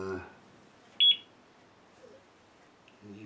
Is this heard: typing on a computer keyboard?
no